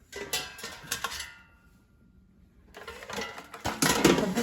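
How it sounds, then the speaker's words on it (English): An air fryer basket slides and clunks into place while making an apple crisp, giving short metallic rattles and scrapes, a pause of near silence, then more clattering knocks close by. "Put the basket in the air fryer."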